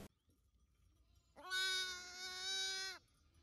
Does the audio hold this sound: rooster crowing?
no